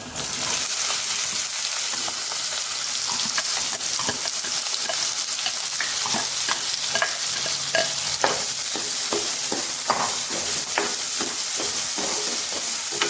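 Chopped onions tossed into a hot pan with egg noodles sizzle loudly and continuously, with rapid stirring scrapes and clicks running through the strong frying hiss.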